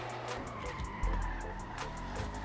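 A Dukes muscle car in GTA V roars as it accelerates, tires squealing and skidding loudly in a continuous game-engine drone with a sharp surge of revving partway through.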